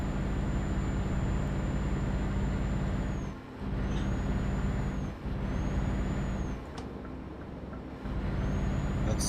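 Heavy truck cruising steadily in Euro Truck Simulator 2, a continuous low engine drone with tire and road rumble and a faint high whine, with a few brief dips in level as it moves to overtake.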